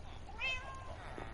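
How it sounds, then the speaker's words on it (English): A cat in the Minecraft video game lets out a single short, fairly quiet meow over a low background hum. "There are so many cats. This is a cat."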